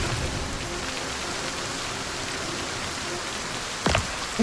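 Steady rain falling in the zombie survival game Project Zomboid, a dense continuous hiss throughout, with a couple of brief louder knocks near the end.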